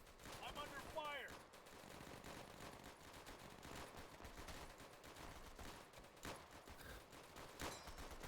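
Battle gunfire from the video game Easy Red 2 crackles steadily at low volume, with dense bursts of machine-gun and rifle fire and a few sharper reports, alongside the noise of an unfolding fight.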